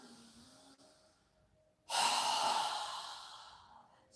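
A person performing a strong open-mouthed exhale during a home yoga breathing exercise: a quiet lead-in, then a sudden loud, breathy rush of air that gradually fades over about two seconds.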